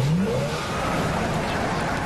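A car in the video game Far Cry 2 revs and drives past, with a rising engine whine at the start fading into rumbling road noise.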